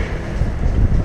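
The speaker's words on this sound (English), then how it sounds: "can you hear me? It's windy." Strong wind buffets the microphone in a dense, roaring rumble on a windy outing in Patagonia, Argentina, loud and close with no voices.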